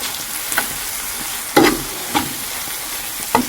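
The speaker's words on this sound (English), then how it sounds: "I'm going to go in with my cinnamon and then I'll mix it up." A spoon stirs cinnamon into apples cooking in a pan on the stove, giving a few separate scraping strokes over a soft steady sizzle, close and moderately loud.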